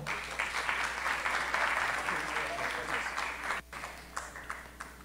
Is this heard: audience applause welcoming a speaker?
yes